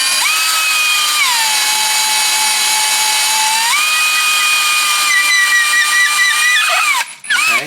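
Power drill boring a hole through gypsum drywall on a house exterior wall, a loud steady whine that shifts pitch as it bites, then cuts off abruptly near the end.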